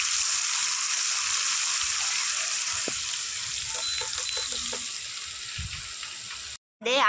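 Dried red chillies, curry leaves and ginger-garlic paste crackle steadily in hot oil, a dense continuous sizzle with a few soft stirring knocks, ending in a brief cut.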